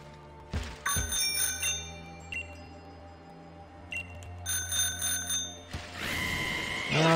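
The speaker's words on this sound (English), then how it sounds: "I thought that ring in my bike bell would actually be the reason" A bicycle bell in the Pokemon Shield video game rings in bright, repeated metallic chimes over a steady low game hum, in several bursts, ending with a louder sustained chime.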